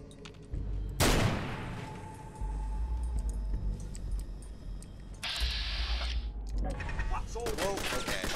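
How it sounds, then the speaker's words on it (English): In the video game Fallout 4, a machine gun turret fires sustained automatic bursts at close range, loud rattling volleys with mechanical clanks and pauses between them, and a voice speaks over the gunfire. "Whoa, okay, machine gun turret. That's what we're facing."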